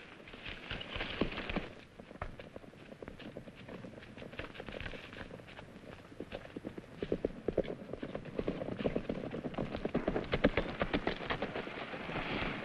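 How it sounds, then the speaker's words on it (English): Horse hooves clip-clop in a quick, continuous rhythm, fairly faint and steady throughout, with a brief lull near the start. "He's a smart horse."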